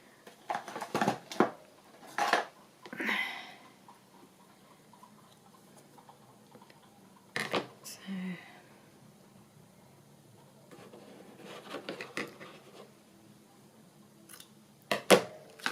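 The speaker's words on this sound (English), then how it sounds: "Let's cut a piece off." Scissors cutting a piece off a wax seal cabochon dangle: several short, crisp snips, sometimes in quick pairs, with quiet handling between and no talk.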